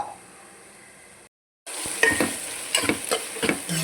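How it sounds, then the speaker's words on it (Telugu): Onions fry at low sizzle, then a brief silence before louder, crackling frying resumes with spoon scrapes and clinks against the pan. "ఉల్లిగడ్డ మంచిగా మగ్గుతుంది"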